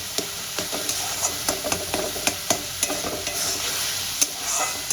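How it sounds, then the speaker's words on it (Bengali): Egg bhurji with spices sautéed in a pan: a near, continuous sizzle punctuated by frequent rhythmic clinks and scrapes of a spoon against the metal, with no voices. "খুব ভালো করে আমি কষিয়ে নেব"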